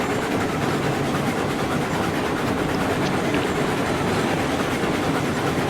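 A train rolls along rails in the Railroads Online railway game, a steady rumbling clatter that carries on without a break, close and even throughout with no voices.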